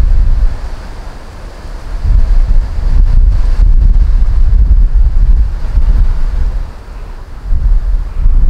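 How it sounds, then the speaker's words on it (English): Strong wind buffets the microphone in loud, gusty rumbles, rising and easing in waves throughout with no voices. "It's extremely windy."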